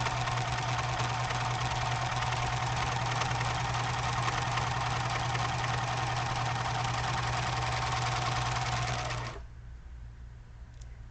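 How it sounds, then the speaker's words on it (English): A serger sews a 3-thread stitch sample, a constant fast mechanical hum and chatter heard close for around nine seconds before cutting off suddenly into a faint background. "Let me sew another sample for you here."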